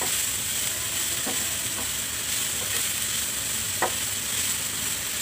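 Chopped coriander leaves frying in a pan over medium heat give a steady, soft sizzle with a few faint clicks of stirring, close and even throughout with no talking.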